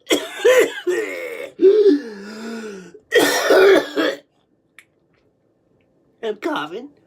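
A person coughs and clears their throat in a few short, loud bursts close by, separated by brief pauses, with a faint final cough trailing off near the end.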